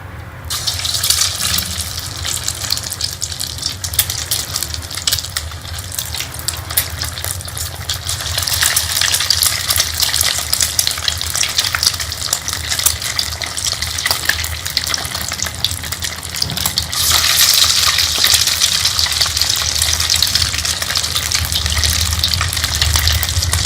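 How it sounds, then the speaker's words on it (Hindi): Rice and potato cutlet rolls dipped in egg sizzle and crackle in hot oil in a kadhai, a loud, dense, continuous frying hiss that swells slightly as more pieces go in. "अब हम अपने रोल्स को अंडे के अंदर डिप करके फ्राई कर लेंगे।"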